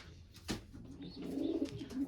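Pigeons coo softly in a breeding loft, with low rolling coos repeating at close range and a brief sharp knock or rustle early on, with no talk.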